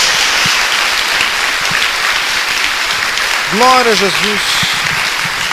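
A Portuguese-speaking church congregation claps through a sustained round of applause. The clapping is broad and continuous, and a voice near the end calls out briefly over it.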